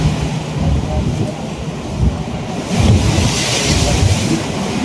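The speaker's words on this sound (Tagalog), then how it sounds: "Ay, ang lalakas po ng alon." Big sea waves washing around a passenger ship at night on open water, with heavy wind rumbling across the microphone, surging louder about halfway through while a voice speaks over it.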